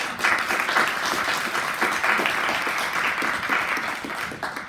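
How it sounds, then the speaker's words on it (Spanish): A university audience applauds a newly introduced academic speaker at a law-teaching event: dense, continuous clapping with a steady roar that holds throughout and eases slightly toward the end. "Un aplauso para ella"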